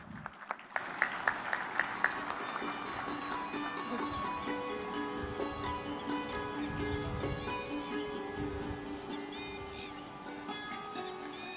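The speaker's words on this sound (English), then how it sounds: "Let's welcome him with a round of applause" Audience applause at a Vibrant Gujarat regional business conference in Surat welcoming the Deputy Chief Minister, starting with a few sharp individual claps and building into sustained hall-wide clapping under a faint musical tone.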